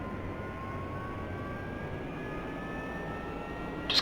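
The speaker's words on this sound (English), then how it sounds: "And the engine's spooling up." An F-16I jet engine spooling up at start in the DCS World flight game, a steady low roar with a rising whine building gradually, ending in a brief sharp click.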